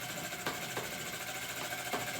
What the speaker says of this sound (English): The minute it does, the engine runs.